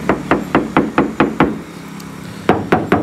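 Quick, evenly spaced knocks on a thin body panel of a Hyundai Stargazer ring tinny and hollow, a run of about eight, a short pause, then three more.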